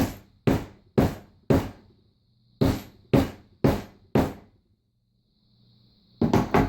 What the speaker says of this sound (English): So carefully, without hammering your fingers, I'm flattening the little folded in pieces.